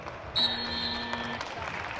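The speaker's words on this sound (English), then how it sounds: "this crowd loved it. Showing their appreciation" A wrestling crowd at the US Open applauds after a match, a faint, steady patter of clapping in a large hall. A buzzer-like tone sounds near the start.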